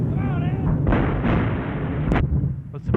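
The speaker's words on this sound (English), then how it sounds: "a heavy artillery barrage of cavalry field guns on nearby hilltops" Heavy artillery barrage from cavalry field guns firing on nearby hilltops, with shells bursting close ahead of advancing infantry; a dense, continuous roar of booms and blasts fills the whole stretch, with sharper cracks standing out near the end.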